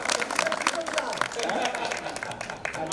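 An audience at a school alumni golden jubilee gathering in Bhopal applauds with steady, dense clapping that rises and fades while voices carry over it.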